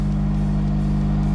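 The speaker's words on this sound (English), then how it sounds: "That's the compressor going" An air compressor runs steadily nearby, giving a loud, constant mechanical hum with a pulsing low drone across the short stretch.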